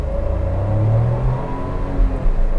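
A Maruti Suzuki S-Presso accelerates flat out on an open road, its small engine droning loudly and steadily with a rising whine heard from inside the cabin.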